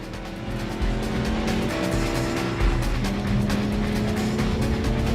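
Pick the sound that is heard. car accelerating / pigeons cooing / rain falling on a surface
car accelerating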